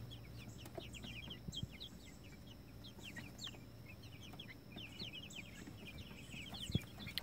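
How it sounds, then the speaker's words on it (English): Young Polish and White Sultan chickens fill a coop with many faint, high peeping chirps, scattered and overlapping against a low background hum, with no talking. "Those are little baby chickens."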